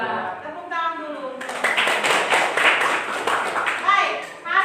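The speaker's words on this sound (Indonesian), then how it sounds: "Tepuk tangan dulu" A classroom group claps together after a chemistry answer on alkane formulas, a burst of dense applause lasting a few seconds, with a voice speaking before the clapping starts and again near its end.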